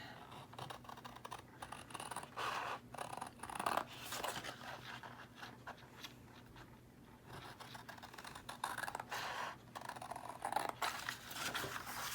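Scissors trimming a paper cutout for a handmade craft journal, quiet crisp snips repeating unevenly, close and faint, with no voices.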